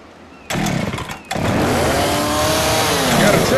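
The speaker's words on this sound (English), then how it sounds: "Got a chainsaw!" A chainsaw in the video game Left 4 Dead 2 starts abruptly and runs loud and close, dropping out briefly before roaring back steadily, with faint voices underneath.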